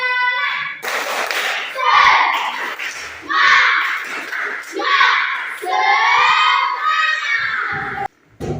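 A classroom of children doing the Indonesian 'tepuk semangat' clapping chant, loud and near, voices shouting in unison with bursts of rhythmic claps over several seconds.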